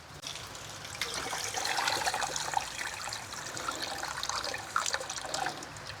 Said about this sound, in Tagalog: Hugas na po tayo ng bigas, pero hindi po ito papangsabaw natin.